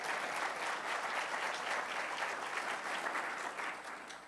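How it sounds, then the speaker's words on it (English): A crowd at a regional small business administration address at Georgia Tech applauds, a thick, continuous wash of clapping that stays loud and even throughout before easing slightly at the end. "Let's give her a round of applause."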